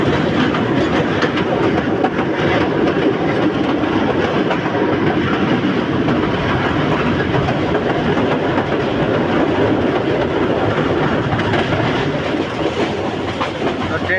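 The Kalni Express passenger train runs on rails between Dhaka and Sylhet, heard from on board as a loud, continuous roar with rhythmic clickety-clack of wheels over rail joints.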